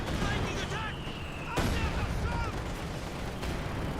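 Panzer tank cannon fire in the wartime strategy game Company of Heroes 2, with several sharp booming shots among ongoing battle noise and a commentator talking over it.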